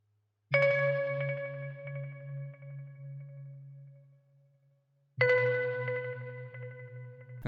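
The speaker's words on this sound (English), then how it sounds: "that's like a bell pluck sound that just fits in perfect with the mood of the sample" A Mellotron bell pluck accent note in a soulful 80s R&B style sample rings out with a bright, bell-like attack and a long decaying tone, then strikes again about five seconds later, clean and alone.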